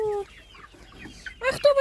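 Chickens cluck in short, scattered bursts close by, with a louder burst of clucking near the end and quiet gaps between.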